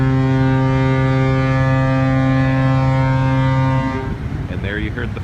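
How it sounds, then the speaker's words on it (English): Deep, steady foghorn blast from the Disney Magic cruise ship in thick fog off Iceland, a loud sustained low drone holding for about four seconds before cutting off, followed by faint ambient noise. "And there you heard the foghorn. That's going off every minute or so."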